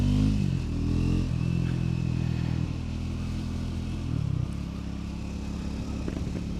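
A 2024 Triumph Scrambler 400 X motorcycle engine putters along at low revs, steady and mid-pitched, shifting tone slightly as it rides, with no voices.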